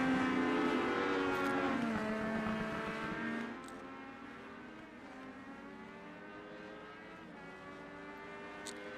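Mystic Legend race cars lap Virginia International Raceway's South Course, their engines droning steadily and shifting pitch as they pass at a distance, a continuous layered roar with no voices.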